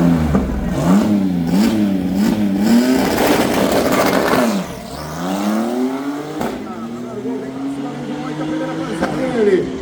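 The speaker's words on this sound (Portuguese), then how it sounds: "vamos o Igor Romano na pista da esquerda. Vai sozinho" A Chevrolet Opala race car roars loud and close as it accelerates down the left lane of a drag strip at an Opala festival. Its engine note rises through several gear changes, with a brief dip midway, while a commentator talks over it.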